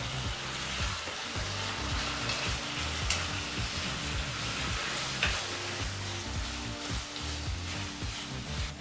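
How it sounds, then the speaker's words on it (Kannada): Chopped tomato frying with capsicum in a pan for an avalakki bisi bele bath, a steady, moderately quiet sizzle with occasional soft scrapes of stirring and no voices. "ಇಲ್ಲಿ ಟೊಮೊಟೊ ಹಣ್ಣನ್ನು 2 ರಿಂದ 3 ನಿಮಿಷ ಚೆನ್ನಾಗಿ ಫ್ರೈ ಮಾಡಿದ್ದೀವಿ"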